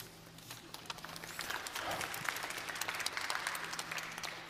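Faint audience applause at a tourism resilience launch event at World Expo Dubai, scattered clapping building into a steady patter from a distant crowd.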